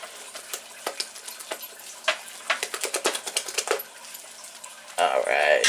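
Waffle batter being stirred, giving a quick series of light clinks and scrapes that speed up in the middle, then a louder, rushing wet noise takes over near the end.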